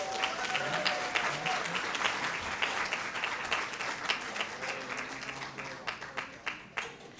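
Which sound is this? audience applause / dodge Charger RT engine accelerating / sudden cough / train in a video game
audience applause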